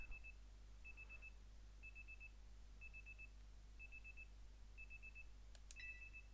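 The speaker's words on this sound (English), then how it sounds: "Your alarm is going off." Video game alarm in Pokémon Legends: Z-A: six short electronic beep bursts evenly spaced about a second apart. They sound faint over a steady low hum, and a brief brighter chime closes the sequence near the end.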